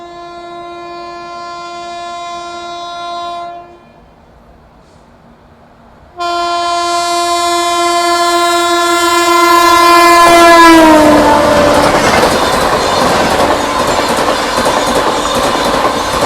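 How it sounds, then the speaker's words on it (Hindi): The Bhubaneswar–New Delhi Tejas Rajdhani Express blares a long, loud multi-tone horn, breaks off, sounds again and rushes past close by with a roaring clatter of wheels that drowns the horn. "ये आ रही है भुवनेश्वर नई दिल्ली तेजस राजधानी एक्सप्रेस।"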